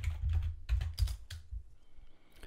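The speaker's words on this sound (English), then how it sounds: "start Wireshark on Kali by typing Wireshark into the terminal." Fingers tap a computer keyboard in a quick burst of close, distinct keystrokes, typing a command into a terminal on Kali Linux, then fall quiet with faint scattered clicks.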